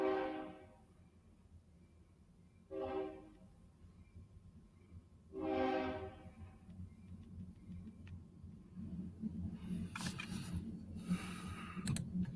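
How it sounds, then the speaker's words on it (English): A train passes outdoors in Arizona, sounding several long horn blasts at a distance over a steady low rumble, followed by closer clanking and rattling toward the end; no talk over it. "Listen to the train in the background."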